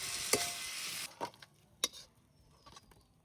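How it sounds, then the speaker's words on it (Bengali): A loud hiss of sizzling oil fades out as a mughlai paratha fries, then scattered clinks and scrapes of a utensil against the pan follow over a soft frying crackle. "মোগলাই পরোটা ভাজা শুরু হয়ে গেছে"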